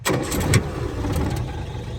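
Land Rover Series 1 engine, already warm, cranking over and catching into a steady rough idle, close and moderately loud with a few sharp clicks at the start, no talk.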